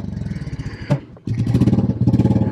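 Royal Enfield Classic 350 single-cylinder motorcycle fitted with a new cam, idling close up with a loping, pulsing thump, a brief sharp pop partway through, then a short rev settling back into the rhythmic chug.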